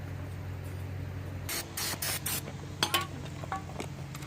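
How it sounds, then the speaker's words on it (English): Several short hissing bursts of brake cleaner sprayed from an aerosol can onto a Honda Grom MSX 125 motorcycle during an oil change, close by, over a steady low hum, followed by faint clinks and rustling. "Spray it all with some brake cleaner just to make sure that oil is still in there."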